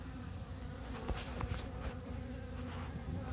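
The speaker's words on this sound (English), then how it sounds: "There's a few bees in here since I combined them now." Honeybees hum in a dense, steady drone inside an opened hive during a frame inspection, with individual bees buzzing closer now and then over the continuous hive noise.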